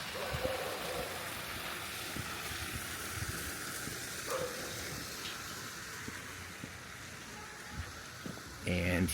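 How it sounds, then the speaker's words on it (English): Small landscaped garden pond with a waterfall at a penthouse complex in Querétaro, giving a steady, soft rush of splashing water throughout. "Here's a little pond with a waterfall."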